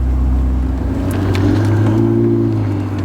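A Ferrari 488 Spider's engine hums low and steady, its pitch rising slightly as the car pulls away, close and fairly loud with no talk.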